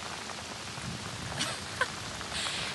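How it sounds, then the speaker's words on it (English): Steady rain pours down during severe flooding from Tropical Storm Elsa in Punta Gorda, Florida, a dense even hiss of drops with a couple of brief louder splashes. "It looks like the rain's coming down."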